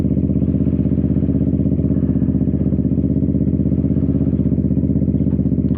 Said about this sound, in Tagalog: So medyo maingay yung ating motor kasi cold start niya.